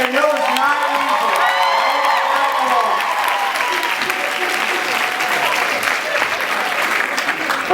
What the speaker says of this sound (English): give yourselves a round of applause for getting in here